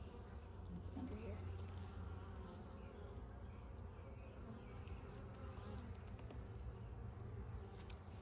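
Honeybees swarm and buzz around an open resource hive outdoors, a steady, dense hum that continues throughout; a faint voice briefly murmurs in the background.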